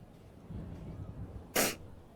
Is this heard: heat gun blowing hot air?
no